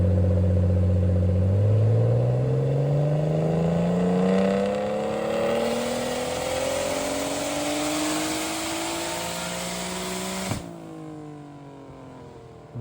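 A boosted BMW E36 engine running on ethanol revs up loudly, its pitch climbing steadily in a strong whining roar before cutting off abruptly and settling into a lower idle.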